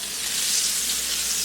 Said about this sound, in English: continue frying until all of your pork chops are in the same shape, golden brown